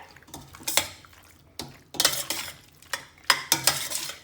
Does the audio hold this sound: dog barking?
no